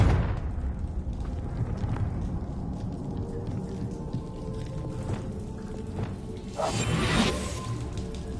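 Confringo spell explosion in Hogwarts Legacy, a rumbling fiery blast under steady noisy background, with a sharp bright whoosh burst near the end.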